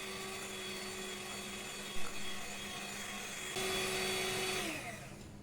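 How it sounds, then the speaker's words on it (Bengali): A handheld electric blender whirs steadily as it beats chocolate cake batter, a continuous motor drone with a brief knock near the middle and a slightly higher, louder pitch toward the end. "এবার আবারও ব্লেন্ডারের সাহায্যে ভালো করে বিট করে নেব।"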